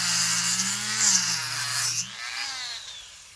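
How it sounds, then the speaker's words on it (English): Dremel rotary tool fitted with a metal cut-off disc cutting plastic, a close high whining grind over a low motor hum that wavers in pitch, then fades as the motor winds down. "What I have on here is, again, another cutting disc. It's a metal cut-off blade."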